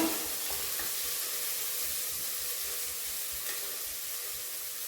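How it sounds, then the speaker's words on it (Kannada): Millet dal khichdi ingredients sizzle and fry in hot ghee, a steady close crackle with faint stirring and no voices. "ಚೆನ್ನಾಗಿ ಫ್ರೈ ಆಗಬೇಕು ಕೆಂಪು ಫ್ರೈ ಆಗಬೇಕು ಫ್ರೈ ಆಗ್ತಾ ಇದೆ"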